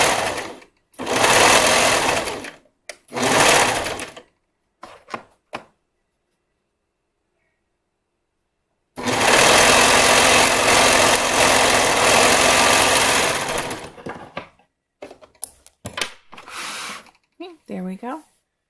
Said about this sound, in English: You can top stitch it. I actually often top stitch.